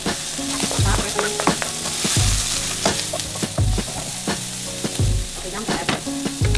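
Bell peppers fry and are stirred in a hot pan for a homemade cheesesteak, a steady close sizzle broken by repeated scraping thumps of the spoon against the pan, with no talking.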